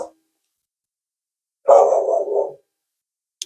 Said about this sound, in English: I had to pause because Sheba was barking at a note.